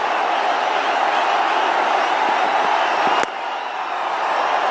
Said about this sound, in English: And you can see the crowd now. They're all getting into the act.